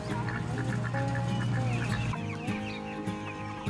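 Young chickens cluck on a farm, with young turkeys kept in the same pen. Their soft, chattering clucks and peeps overlap in a dense, near chorus that continues the whole time.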